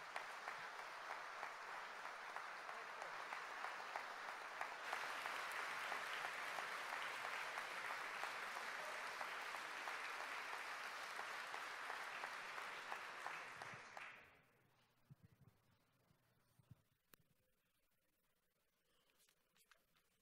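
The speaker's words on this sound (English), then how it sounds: "stand and give our graduates a big hand and applause" Families and friends applaud graduates at a high school graduation ceremony in a large hall, dense sustained clapping that swells, holds steady, then cuts off abruptly with a few scattered claps and quiet room noise after.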